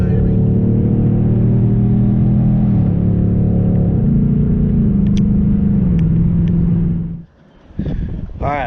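Engine and exhaust rumble from a 2024 Dark Horse Mustang fitted with a Roush H-pipe exhaust, loud and close, stepping through several downshifts with shifting harmonic tones before cutting out briefly and revving back up at the end.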